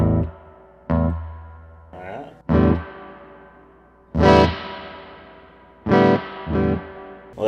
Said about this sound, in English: So the dwell is kind of like how long the reverb will sustain.